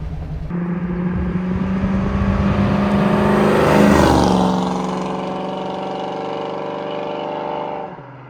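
A 1967 Fastback Mustang GT engine accelerates on an open road, its steady rumble climbing in pitch and loudness to a peak before easing back into a sustained drone, close and continuous with no talking.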